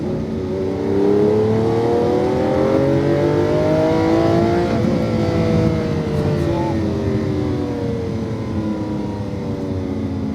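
A car engine revs hard and loud from inside the cabin through a wide corner, its pitch rising, dipping, then climbing again as it accelerates, with talk over the engine.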